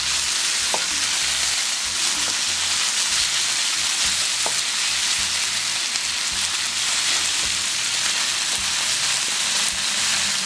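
Bacon and ham frying in a pan, a loud continuous crackling sizzle like heavy rain with a few faint utensil taps, close and unbroken.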